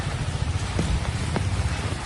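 Heavy rain during flooding in Chennai from Cyclone Fengal, a loud, continuous roar of downpour close by, broad and steady with faint knocks within it.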